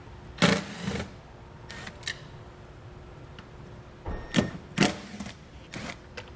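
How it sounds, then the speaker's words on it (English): A Phillips head screwdriver removes the two taillight bolts on a vehicle, giving a few sharp clicks and ratcheting ticks spaced irregularly, close and fairly quiet. "We'll remove the 2 bolts with a Phillips head screwdriver."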